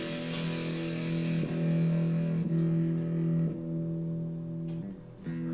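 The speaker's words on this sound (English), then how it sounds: "Some good, honestly, good high gain tones on this thing." Heavily distorted high-gain electric guitar through a rack amp, sustained chords ringing with thick harmonic buzz, a few picked changes and decays, loud and close with no talking.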